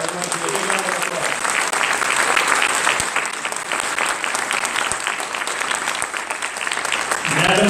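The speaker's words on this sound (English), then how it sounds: "Please give Sarmaji a big round of" An audience at a Delaware Secretary of State swearing-in ceremony breaks into sustained, dense applause lasting several seconds, with a voice briefly heard near the end as the clapping continues.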